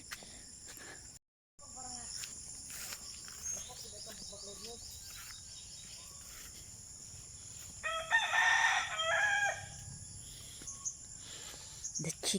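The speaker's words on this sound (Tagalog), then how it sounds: "The chicken is there." A rooster crows at a house in Baluarte, a drawn-out call rising midway through, moderately near, over steady insect and cricket chirring, with hen clucks and light background voices and outdoor sounds.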